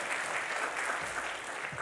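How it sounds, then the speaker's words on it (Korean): A church congregation applauds to welcome a pastor. The steady, dense clapping is fairly close and continuous, with no speech over it. "큰 박수로 맞이해 주시기 바랍니다"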